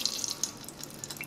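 Water is poured into a 10-quart Instant Pot Duo Nova pressure cooker, a faint, close trickle with small splashes and drips over a quiet background.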